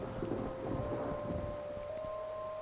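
Steady rain patters in the adventure game Gibbous - A Cthulhu Adventure, a continuous soft wash with a faint tonal hum running underneath.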